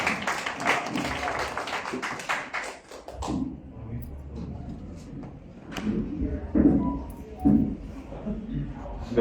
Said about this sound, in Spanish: Vamos a recibir un fuerte aplauso al licenciado Rafael Romero Vázquez.